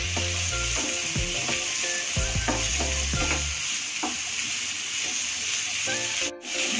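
Vegetables such as green peas frying lightly in a pan for masala oats, a steady close sizzle with repeated scraping stirs of a spoon against the pan.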